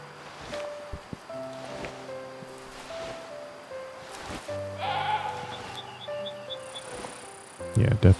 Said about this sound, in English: Yeah, definitely some feral goats.